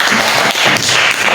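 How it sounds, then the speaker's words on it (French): Children in an elementary school classroom for blind pupils break into quick applause, a dense burst of claps lasting about a second and a half, close and loud with no talking over it. "Il faut l'applaudir."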